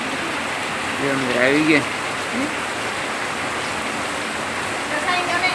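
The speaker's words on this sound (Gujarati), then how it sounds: "જો મિત્રો વરસાદ તમને દેખાય છે આવી ગયો છે" Steady rain falls in a dense, even hiss, with a voice speaking briefly over it near the start.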